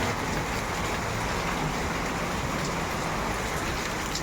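Heavy rain pours down steadily, a loud, unbroken hiss of water drumming on surfaces with no voices.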